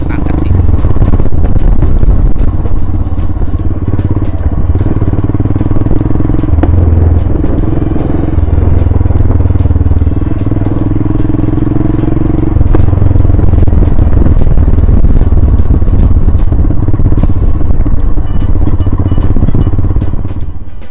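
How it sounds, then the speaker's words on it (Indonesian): An off-road motorcycle climbs a hill trail at Lacheraz Hills, Purok 4, Conde Labac, Batangas City. Its engine drones steadily and loudly throughout, with rattling clatter from the rough ground and wind buffeting the microphone. "Ay talaga nga namang hinahamon ang ating motor sa off-road."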